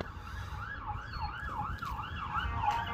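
A wailing siren rises and falls repeatedly at a moderate distance outside an abandoned restaurant in Battle Creek, Michigan, with low traffic rumble underneath.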